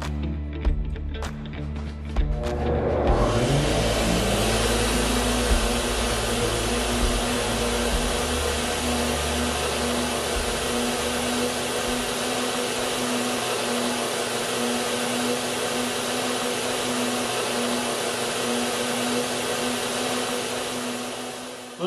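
A flow bench starts up and runs a steady, loud, roaring airflow through a two-barrel carburetor, rising to full speed within a few seconds after some brief clicks, then holding an even whooshing hum with a constant tone throughout.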